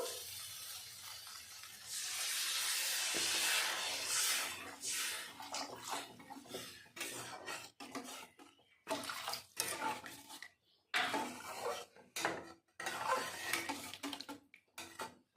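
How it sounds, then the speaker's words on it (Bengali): Water splashes in a steady pour for a couple of seconds into katla fish curry masala cooked with Kashmiri chilli powder and onion stalks in a pan, followed by irregular clattering and stirring knocks. "এখন দিয়ে দেবো পরিমাণ মতো জল"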